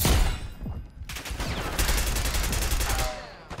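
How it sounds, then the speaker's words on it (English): Rapid gunfire from a shooter video game, a dense burst of shots and a rocket-like kill streak, loud and continuous across the moment with sharp repeated cracks and a rumbling low end. "And yeah, so Cam just shot that"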